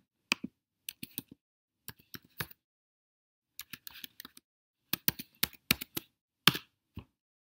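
Keys clatter on a computer keyboard as someone logs in as admin to the Gigamon enterprise license platform, in close, quick bursts of keystrokes separated by short pauses, with no speech.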